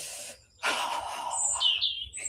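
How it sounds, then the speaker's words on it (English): Small birds chirp and tweet outdoors near nesting robins, thin high calls repeating faintly over a soft background hiss in the morning air. "It's so lovely being out with the birds."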